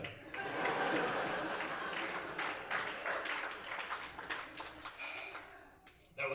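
Comedy club audience at a stand-up set applauds in a broad, steady wash of clapping that peaks early and slowly thins out, with a few voices mixed in near the end.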